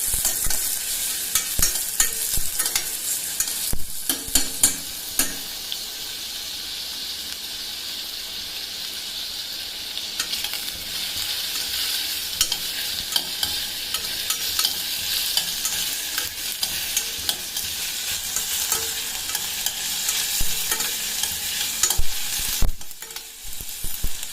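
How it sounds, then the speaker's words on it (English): Onions fry in a pan for Goan choris chilly fry with a continuous loud sizzle, punctuated by occasional stirring scrapes and clatters over the full stretch. "So my onions are fried nicely."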